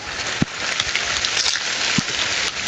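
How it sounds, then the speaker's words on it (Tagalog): Steady rain hisses down around a hut among trees in the countryside, a dense, close patter with a couple of heavier drops landing nearby. "Ulan man."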